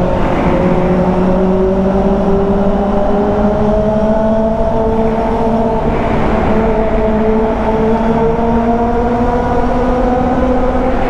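Loud Kawasaki ZX25R inline-four motorcycle engine revving and droning continuously, pitch rising and falling, with a booming, enclosed echo inside a tunnel.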